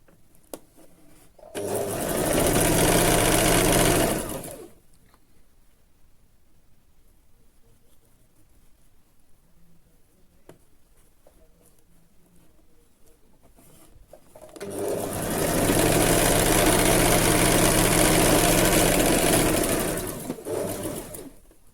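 An electric sewing machine stitches a side slit on a dress or kurti in two loud, steady bursts of whirring, each a few seconds long, separated by a quiet pause.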